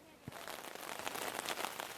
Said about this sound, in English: It's just beginning to rain